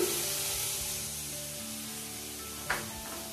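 Chopped capsicum and other vegetables drop into a hot frying pan for chicken momo filling, giving a steady close sizzle that slowly fades, with a brief clatter near the end.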